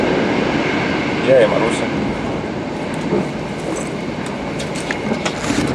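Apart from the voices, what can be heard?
train ride from the airport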